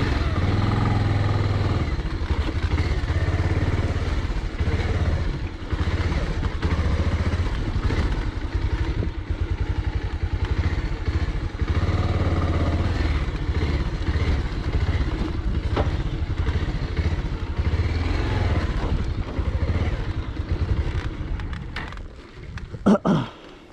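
A motorcycle engine runs steadily and close on a hillside climb to Upper Chatakpur, a constant rumbling drone with some clatter and a few louder bumps near the end, with no clear talking.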